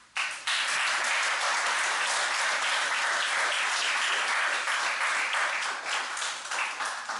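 Dense applause from a conference audience after a talk on product mindset, loud and sustained for several seconds after a brief quiet start, with no voices over it.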